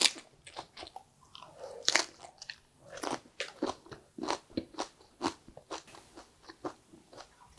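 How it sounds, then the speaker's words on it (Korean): Close, loud crunching bites into raw spring cabbage (bomdong) eaten with water dropwort, followed by a steady run of crisp chewing crunches, with no talking. "그러면 봄동을 한번 먹어볼게요"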